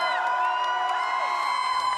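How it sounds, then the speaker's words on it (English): Fans scream and cheer in a dense, loud crowd roar celebrating the Florida Gators' men's basketball national championship win over Houston in Gainesville, with continuous whoops and yells throughout. "fans screaming like the final buzzer went off against Houston"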